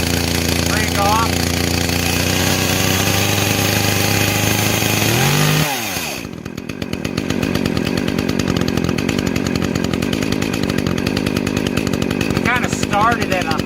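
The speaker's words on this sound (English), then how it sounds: "When it's at idle like this, the chain shouldn't be turning even with the brake off." A brand-new Echo chainsaw runs loudly at a high rev, then drops abruptly into a steady, rattling idle that continues to the end, with a person talking over it.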